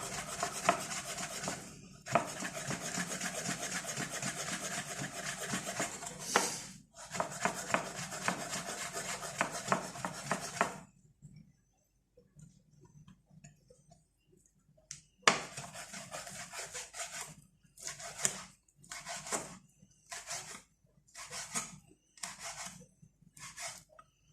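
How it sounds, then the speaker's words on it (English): A knife working across a wooden chopping board, long stretches of scraping followed by a pause, then a run of short, rhythmic chopping strokes as bacon is finely diced. "I'm going to use a separate chopping board to chop my bacon"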